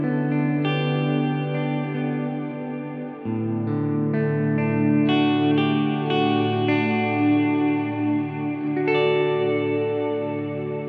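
Electric guitar played through a Walrus reverb pedal, sustained chords blooming into a lush, synth-like ambient wash with long decaying tails; continuous, moderately loud, with a chord change partway through and no talking.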